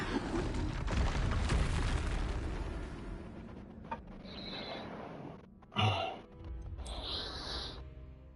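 A Bombarda spell blast in Hogwarts Legacy comes as a heavy rumbling burst that fades over a few seconds, followed by sharper, shorter spell impacts and bright chimes.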